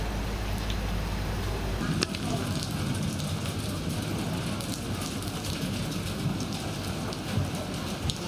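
Steady rain falls in Tai O, Hong Kong, a dense, continuous hiss of drops on surfaces, close and fairly loud with occasional sharper patters and no speech.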